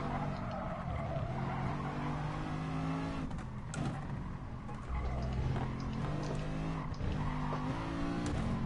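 GT4 race cars in the GT Sport video game drone with a continuous engine note that shifts pitch with gear changes, joined by bursts of tire squeal partway through.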